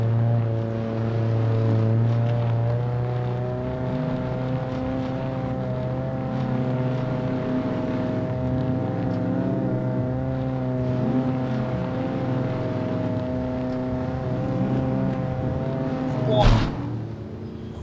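A car driving in the video game SCUM, its engine holding a steady droning hum with strong low harmonics, a sharp bump or crash near the end, and voices talking over it.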